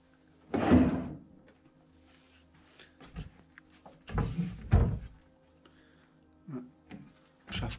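Wooden drawers and cabinet fittings in an abandoned villa's desk being pulled open and handled, giving a few separate thumps and scrapes with quiet gaps between them and no talking.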